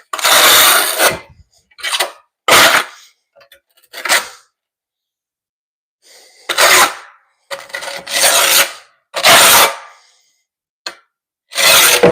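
Trowel scraping adhesive while back buttering floor tiles, loud close rasping strokes repeated in short bursts with silent pauses between them.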